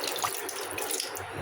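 Water runs steadily from a kitchen tap while fish are rinsed under it, giving a close, continuous splashing gush with no talking.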